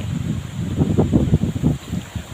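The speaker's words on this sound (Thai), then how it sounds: "ลมมาแล้วค่ะ นี่นะคะ พายุมาด้วยค่ะ พายุแรงด้วย" Strong gusts of an approaching storm buffet the microphone outdoors on a November evening in Thailand, coming as a series of loud, uneven low whooshes that swell and fade one after another.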